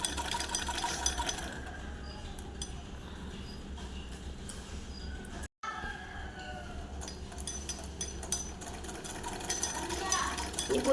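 Sewing machine stitching a one-foot seam through two layers of cloth placed reverse side to reverse side, a fast rattling mechanical run broken by a brief pause midway, then resuming.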